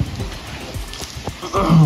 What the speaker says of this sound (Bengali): ঝোড়ো হাওয়া আর বৃষ্টি